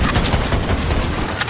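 Rapid gunfire from a sniper rifle in the video game Borderlands 3, a dense run of loud, close shots packed into a short burst with no talk over it.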